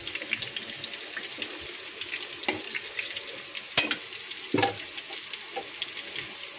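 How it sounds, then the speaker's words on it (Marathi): Eggs cracked into a hot pan of cooked rice for restaurant-style fried rice, giving a steady close sizzle with a few sharp taps and splatters, no talking. "ह्याच्यात मी अंडी टाकते 2"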